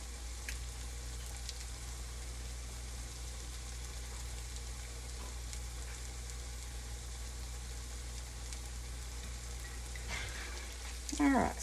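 Potato pancakes frying in a pan, giving a steady, even sizzle that runs throughout, with a brief scrape and clatter near the end as the pancakes are handled.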